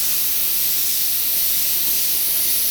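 An airbrush mists paint over vinyl circles for a rivet effect, giving a steady, even airy hiss that runs unbroken and close with no voices.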